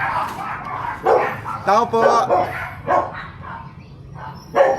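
Dog barking in short bursts at a barangay anti-rabies vaccination drive, the yelps and barks rising over steady talk from people nearby.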